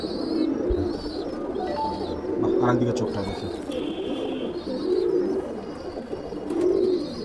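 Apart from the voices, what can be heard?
pigeon cooing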